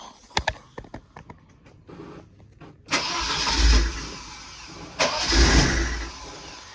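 An old Volvo 242 Turbo with a breakerless ignition box, short on fuel, clicks a few times, then cranks in two loud bursts that catch and fire briefly before dying away.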